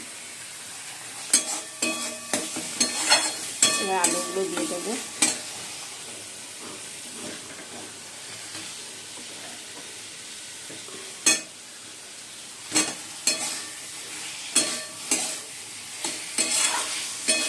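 A spatula scrapes and stirs spices in a sizzling pan in bursts of irregular strokes, with a low frying hiss between them; a voice speaks briefly.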